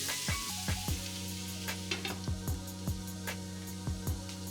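Beef and green peppers cooking in a pan, a faint soft sizzle under a series of sharp clinks and taps from a utensil stirring against the pan.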